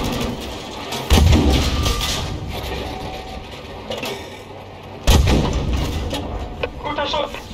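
Two heavy tank cannon blasts from a World War II video game boom about four seconds apart over a rumbling engine, with a voice speaking in between.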